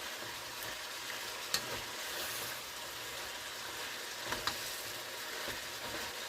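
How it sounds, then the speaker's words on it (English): Cabbage being tossed and stirred in a pan of hot oil and butter, giving a steady soft sizzle throughout with a few brief clinks of utensil against pan. "after a good toss, getting the oil and the butter pretty much tossed through the cabbage"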